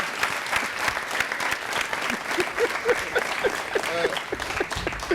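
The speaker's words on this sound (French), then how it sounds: "On va l'applaudir." Audience applause fills a French comedy talk show studio, a steady dense patter of clapping hands with some scattered crowd noise running throughout, loud and continuous.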